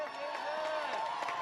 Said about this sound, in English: A big, big round of applause for Deja Waller.